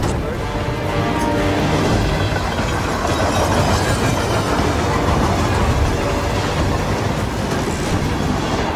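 Train rolling steadily along rails in the video game Hitman 3, a continuous loud rumble with rhythmic wheel clatter and faint squeal throughout, with no pauses.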